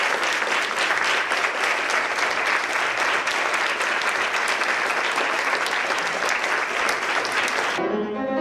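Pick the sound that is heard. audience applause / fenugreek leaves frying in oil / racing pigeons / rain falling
audience applause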